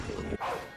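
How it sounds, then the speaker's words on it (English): A Pokémon cry from the Pokémon Shield video game that sounds like a real dog bark: one short, loud bark-like yelp with a sharp break partway through, heard alone. "That's literally just a dog bark."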